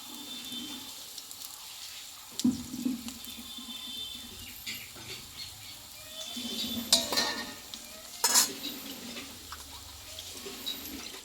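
Lentil dal bora fritters sprinkled with white sesame fry in oil in a wok, giving a soft, steady sizzle broken by a few sharp clinks of a utensil against the pan.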